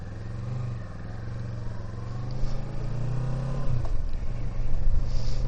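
A motorbike engine rumbles close by, settling briefly before revving up and pulling away with rising, fuller drone as the rider sets off around a farm; no talk.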